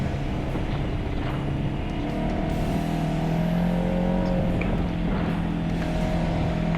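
A Polaris RZR side-by-side picks up speed on a Colorado trail, its engine droning loud and steady with rising pitch as it accelerates, accompanied by continuous road rumble.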